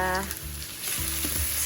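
Food frying in a pan gives a steady loud sizzle, with scraping stirring strokes audible underneath, close up and with no talk.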